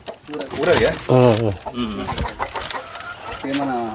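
Chickens cluck close by in a few short bursts, mixed with a person talking.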